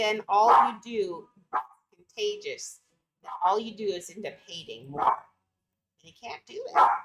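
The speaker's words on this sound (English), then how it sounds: "You don't gotta be so barky right now." A dog barks in short bursts between and under a person's steady talking indoors.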